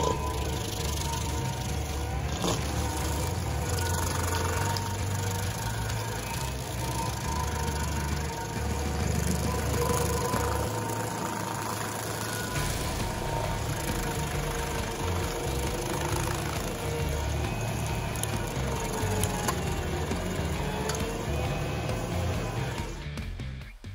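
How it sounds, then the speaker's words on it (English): Rayco RG80 stump grinder engine running steadily at close range, a loud continuous mid-pitched drone with a low rumble and faint knocking, working through a 36-inch oak stump. "the Rayco RG80 stump grinder destroyed a 36-inch oak stump in just 10 minutes"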